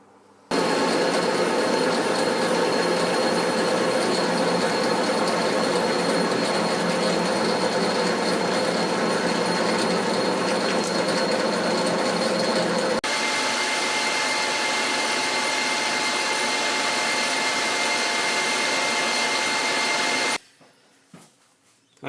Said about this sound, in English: we'll machine it to a bit oversized because it will have to be milled square